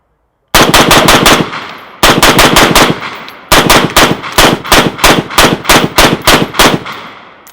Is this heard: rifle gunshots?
yes